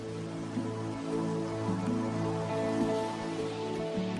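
Steady rain falls in a tropical rainforest, a dense, even hiss of drops on foliage, continuous and moderately loud with no voices.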